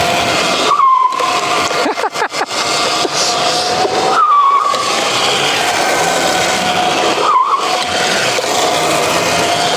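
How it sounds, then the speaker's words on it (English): An EGO Power+ electric mini bike fitted with an upgraded EV Raceworks moto brake makes a loud, close whir, with three brief squealing brake bursts spaced a few seconds apart. "All right, first ride with the upgraded EV Raceworks moto brake."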